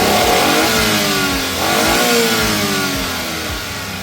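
A Suzuki DA17V van engine with a 4x2 tiptronic AGS gearbox revs up and down repeatedly, loud and close, rising and falling in pitch with no talk over it.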